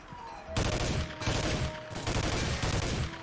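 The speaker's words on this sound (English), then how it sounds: "That's a lot of recoil on this gun." Rapid gunfire in the video game Team Fortress Classic, a dense, loud burst of shots in two sustained volleys with a brief gap between, close and continuous.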